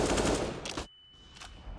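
An AK rifle in Counter-Strike fires on full auto, a loud close burst lasting under a second. A short, quieter second burst follows after a brief gap.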